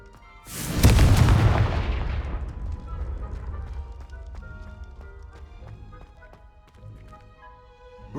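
Confringo fire spell from Hogwarts Legacy exploding in a sudden loud blast that rolls off into a long fading rumble, with small clinks and crackles lingering afterward.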